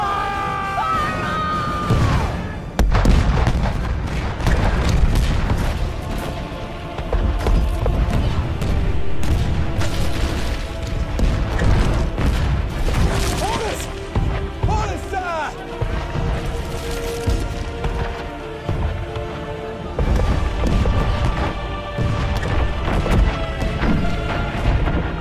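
Ship cannon fire in a Pirates of the Caribbean battle scene as HMS Endeavour sinks, repeated heavy booms and crashes over a dense orchestral score, with shouted voices.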